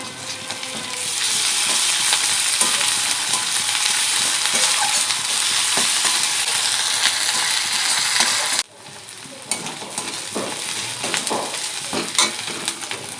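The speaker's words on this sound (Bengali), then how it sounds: "পেঁয়াজ ভাজা হয়ে গেছে, দিয়ে দেবো আদা রসুন, বেটে রাখা আদা রসুন একসাথে।" Ginger-garlic paste sizzles loudly in hot oil with fried onions, a dense steady crackle with occasional stirring clicks; partway through the hiss drops abruptly and then carries on more softly.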